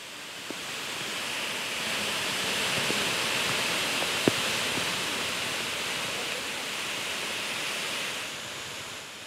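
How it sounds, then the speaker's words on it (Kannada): Jog Falls in Shivamogga roars as a steady, dense wall of falling water, continuous and even, with only a couple of faint clicks and no talk. "ಧುಮ್ಮಿಕ್ಕುವ ಜಲಪಾತದ ಶಬ್ದ ಕೂಡ ಒಂದು ಸಂಗೀತ."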